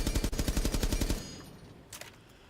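A fast automatic burst of gunfire at a shooting range in the video game Rainbow Six Siege, loud rapid shots for about a second followed by quiet and a faint distant thump.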